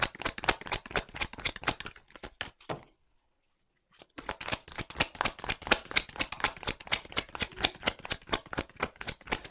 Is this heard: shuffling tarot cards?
yes